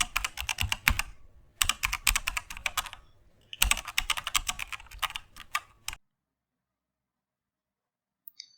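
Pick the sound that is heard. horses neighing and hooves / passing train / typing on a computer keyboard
typing on a computer keyboard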